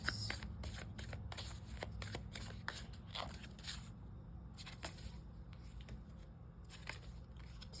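A deck of cards is shuffled repeatedly, rapid crisp riffling bursts in a steady rhythm, close and fairly quiet, with a short pause midway.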